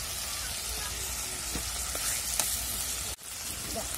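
Ginger garlic paste, turmeric and chili powder frying in a pan, a loud steady sizzle with a few spatula scrapes and a brief dip in the hiss near the end.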